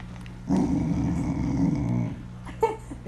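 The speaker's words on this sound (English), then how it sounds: "Stop barking." A jealous dog growls loudly and close up in a sustained low rumble lasting a couple of seconds, followed by a short yip or whimper.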